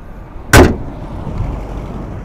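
A single solid thud, like a door shutting, comes from a 2020 Mercedes GLB 220d 4MATIC diesel SUV, followed by a low, quiet cabin rumble.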